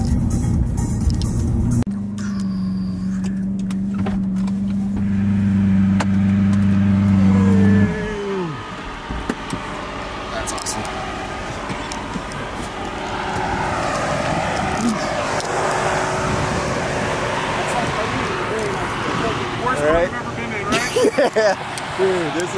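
A Lamborghini Aventador at a Hill Country rally holds a steady low engine drone, then revs and accelerates with a rising, shifting roar. Voices talk over it throughout.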